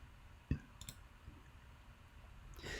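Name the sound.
computer mouse clicking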